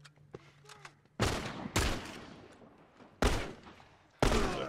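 Hunting rifle shots in The Last of Us video game: four loud, sharp reports spaced about a second or two apart, each with a short decaying echo, after a quieter stretch with faint voices.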